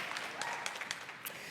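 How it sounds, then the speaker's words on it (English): A morning keynote audience in Los Angeles gives a brief burst of clapping, fairly faint and distant, with scattered individual claps standing out. "Give yourselves a round of applause."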